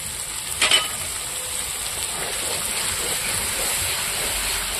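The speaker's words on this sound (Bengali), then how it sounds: "এখন দিয়ে দেবো এটার মধ্যে টমেটো পেস্ট।" Tomato paste sizzles and fries with ginger and garlic in a pan, a steady close hiss with a brief stirring clatter near the start, no talk.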